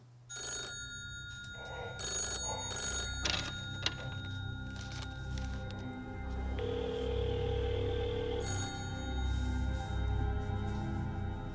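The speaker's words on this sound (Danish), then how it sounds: "Söhnlein telefonerer til Kai Munk og præstegården." Telephone ringing as a sound effect in a Danish true-crime documentary about a call to a rectory, with bursts of ringing over a steady low background bed and a sustained tone midway.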